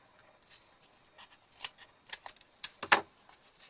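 Scissors make a few short, crisp snips while trimming a paper piece for a junk journal, quiet at first, then several sharper, louder cuts spaced irregularly near the end, close by with no talk.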